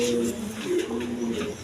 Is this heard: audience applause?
no